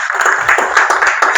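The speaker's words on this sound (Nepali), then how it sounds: "एकचोटि ताली बजाउनुहोस्।" An audience claps at a gathering in rapid, uneven bursts, a brief ragged patter of hands fairly close by, mixed with some voice.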